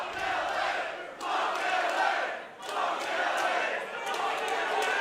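A wrestling crowd cheers loudly at the start of a title match, in two or three surging waves of roaring voices with brief dips between them.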